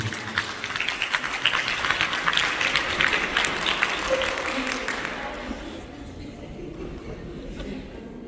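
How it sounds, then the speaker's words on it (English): An audience bursts into dense applause that swells and holds for several seconds, then gradually thins out toward the end, with faint crowd murmur underneath. "Give these guys a round of applause, please."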